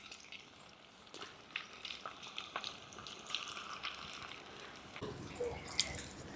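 Fish pieces frying in foaming groundnut oil, a faint, soft sizzle with light crackles and bubbling pops, plus an occasional clink from a utensil, heard up close without talking.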